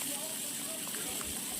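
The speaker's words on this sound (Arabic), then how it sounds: "أول شي نحمر اللحمة" Minced meat frying in a pan for a pasta dish, giving a steady, close, continuous hiss and sizzle with no break.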